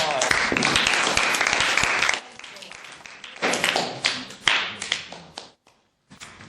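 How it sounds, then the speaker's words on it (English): A class audience gives a round of applause, a dense burst of clapping for about two seconds, then scattered uneven claps and murmuring voices before it dies away. "Round of applause."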